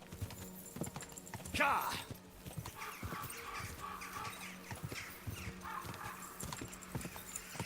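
Horse hooves clip-clop in a video game, a steady run of hoofbeats with a brief whinny near the start, heard under someone talking.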